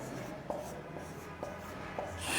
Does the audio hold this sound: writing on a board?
yes